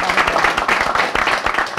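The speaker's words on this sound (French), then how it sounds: "on t'applaudit encore" A studio audience claps through the whole moment at a football talk show about the Elite 2 club final, steady dense applause with some crowd voices mixed in.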